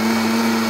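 A kitchen blender whirs steadily, blending carrot cake batter with condensed milk in one continuous loud motor drone with a strong hum and no pauses.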